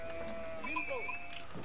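Sheep bleat in the strategy game Age of Empires IV as a flock is herded near a mill, a few wavering cries over game ambience while a voice talks.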